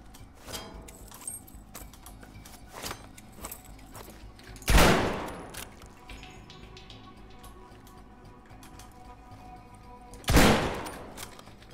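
Two loud gunshots ring out about six seconds apart in the Battlefield V video game, with light clicks and rattles in between.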